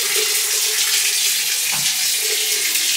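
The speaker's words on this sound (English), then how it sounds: "We got to go shower in the cold water" Cold water runs from a shower in a steady, close, loud hiss and splash, continuous throughout with slight shifts as the stream hits the surface.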